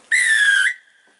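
A plastic tin whistle sounds one clear, loud sustained note of about half a second, breathy and bright with strong overtones, then drops off into a faint lingering tone.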